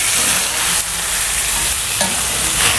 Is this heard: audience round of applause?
no